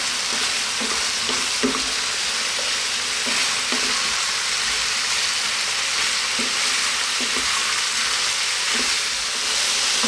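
Lamb curry with turmeric, cumin and coriander powder sizzling steadily in a hot pan, with repeated scrapes and clinks of a spoon stirring often, close and continuous without talk.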